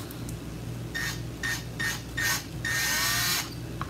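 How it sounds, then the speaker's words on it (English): Power drill boring into a metal paint can lid, with several short bursts of whirring drilling followed by one longer grinding run, close and moderately loud over a low background hum. "we're just going to take a drill with the right size bit"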